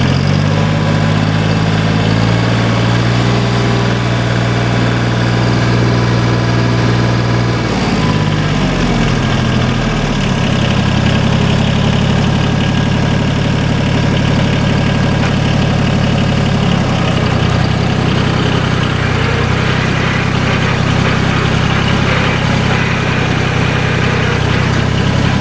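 A John Deere 850 diesel tractor with 385 hours idles close and loud, a steady low chugging drone that shifts pitch slightly partway through.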